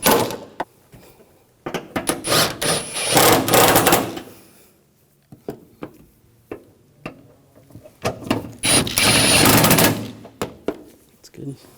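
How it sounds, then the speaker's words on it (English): A power tool whirs in repeated bursts, tightening bolts on the AC liquid line assembly of a 2006–2010 Hummer H3 3.7L, separated by short clicks and clanks of metal parts, loud and close. "I'll get the bolt started. Yeah, I'll tighten these down."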